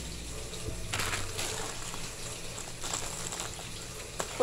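Water runs from a tap into a pot for making ramen noodles, a low, fairly quiet gush with some clattering, a sharp knock at the end.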